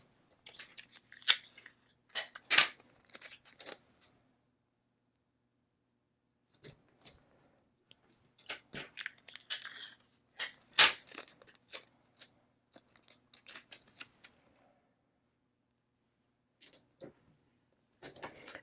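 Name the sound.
Scotch tape being torn and pressed onto leather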